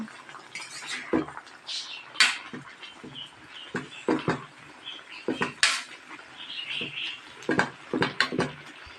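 A spoon scrapes and clinks against a pot while pinakbet is stirred after ground pepper is added, close and fairly crisp metallic taps and scrapes in an uneven rhythm, with no talking.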